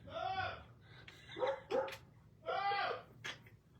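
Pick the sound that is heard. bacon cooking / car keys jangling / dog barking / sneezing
dog barking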